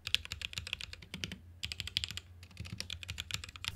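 Rapid typing on a budget mechanical keyboard fitted with red switches: dense, steady keystroke clicks close up, with a brief pause midway before the typing resumes.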